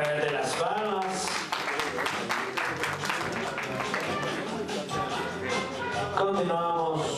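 An audience claps along at a numbered event, the patter of hands mixed with crowd voices and talk throughout.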